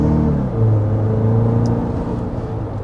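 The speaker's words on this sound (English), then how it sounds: "As soon as I put my foot down, downshifted, got me the power I needed." A Hybrid Max hybrid car accelerates hard as its traditional automatic transmission downshifts, giving a close, steady engine drone that rises in pitch and strengthens, with no talking.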